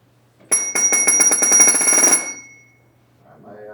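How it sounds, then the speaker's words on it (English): A firefighter's SCBA low pressure alarm rings loudly and steadily as a rapid pulsing bell-like tone for about two seconds, then cuts off, followed by a faint voice. "my low pressure alarm is working as well"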